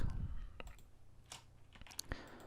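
A few faint, sharp clicks spaced irregularly from a computer mouse being clicked while working in Photoshop, with a quiet voice at the very start.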